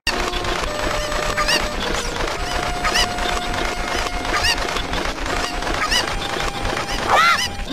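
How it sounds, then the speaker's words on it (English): Chickens cluck and squawk loudly and continuously in the video game Zelda: Ocarina of Time, a dense, overlapping flock of cries with sharp rising squawks throughout, alongside game sound effects and no talk. "These chickens won't shut up."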